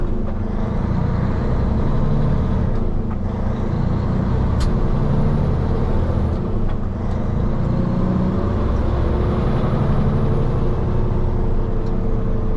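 A truck's air brakes are released before it pulls away: a steady loud idling engine rumble runs throughout, broken by a few brief hissing bursts from the brakes.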